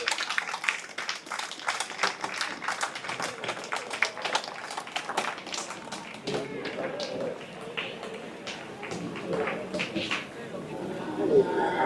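A festival crowd claps for costumed performers at a religious feast procession in a steady stream of scattered handclaps, while an announcer talks over it through a loudspeaker.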